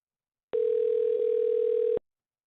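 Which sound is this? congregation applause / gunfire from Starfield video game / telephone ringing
telephone ringing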